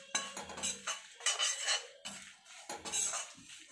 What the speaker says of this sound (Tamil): இந்த மாதிரி வறுத்துட்டே இருக்கணும்